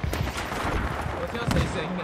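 Gunfire in the Battlefield 3 video game, a dense run of shots and bursts from several weapons over a steady din of battle, with voices talking over it.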